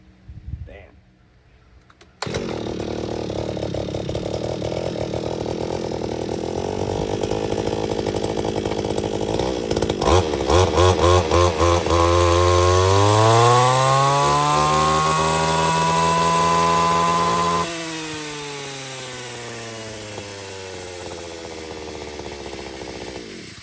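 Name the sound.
brush cutter with circular saw blade cutting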